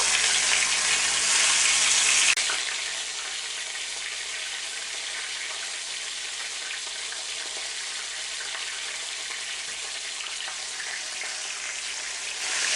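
Chicken pieces in a kefir marinade, coated in flour, fry over high heat in a pan, giving a steady close hiss and sizzle that is loudest at first, then settles into a continuous, even crackle.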